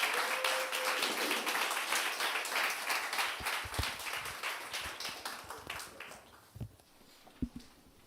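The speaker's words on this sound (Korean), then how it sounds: "우리 두 분 앞으로 나오실 때 힘차게 박수 한번 부탁드리겠습니다." Church congregation applauding as two people come forward, dense steady clapping from many hands that gradually thins out into a few scattered claps and taps toward the end.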